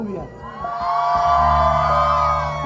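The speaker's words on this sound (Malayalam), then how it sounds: "നമ്മുടെ ഈ സൈഡിലെ ആൾക്കാരൊന്ന് കൂവിയാ" One side of a folk song show audience hoots loudly in unison, a sustained swelling cry of many voices that rises and holds.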